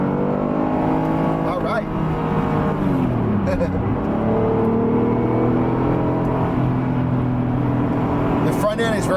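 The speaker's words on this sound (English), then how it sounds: "Now we'll hear the exhaust a little better" An Acura NSX driving with the top off, its mid-engine exhaust droning loudly and rising and falling through revs and a downshift dip, with brief talk over the engine.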